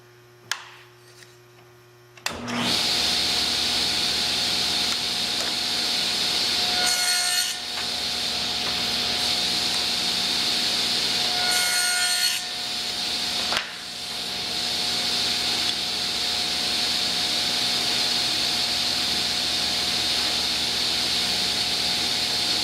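A table saw fitted with a thin kerf blade, raised about 1/8 inch with the fence at 1/4 inch, spins up and cuts wood in a steady, loud whine for about twenty seconds, dipping briefly a few times mid-cut over a low mains hum.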